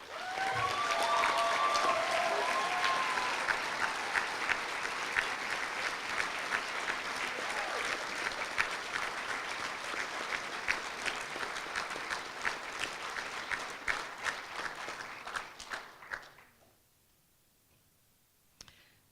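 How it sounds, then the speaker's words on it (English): A large audience applauds graduates at the Minneapolis College of Art and Design Fall 2016 commencement ceremony. Dense, sustained clapping with a few early cheers thins out and stops around sixteen seconds, leaving near silence. "please join me in a warm ovation for MCAD's Bachelor of Fine Arts graduates"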